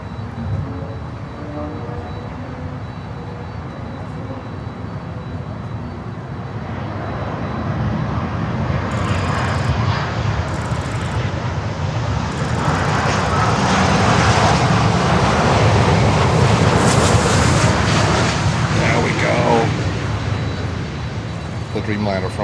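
A Boeing 787 Dreamliner jet from Dallas at Miami airport produces a loud engine roar that builds to a stronger, brighter rush midway and stays near, with faint talk.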